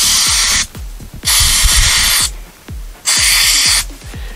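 A sandblaster sprays fine sand onto parts of a 1995 Ford F-150 Flareside pickup in three loud, close hissing blasts of about a second each, separated by brief pauses with faint clicks and no talking.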